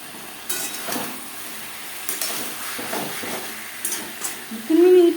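Pumpkin and slit green chillies stirred in a pan over a high-medium flame, giving a soft steady sizzle with scattered scraping strokes and a brief hiss near the end.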